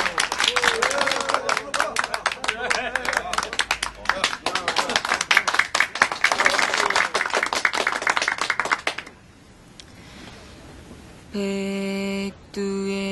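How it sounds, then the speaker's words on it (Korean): A small group claps in a lively burst, rapid overlapping hand claps lasting several seconds, then a pause and a musical tone starts. "박수."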